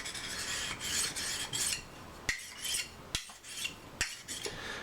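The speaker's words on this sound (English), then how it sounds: "It's not going to take that long to get an edge on this knife either," A hunting knife being sharpened outdoors, its blade held flat and stroked across a stone in repeated rasping passes, with a few sharp scraping clicks between strokes, close and fairly quiet.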